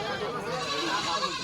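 Goats bleat at the Charkhat Nandangachhi goat market, where castrated goats are sold for Qurbani, with a wavering bleat mixed into crowd chatter nearby.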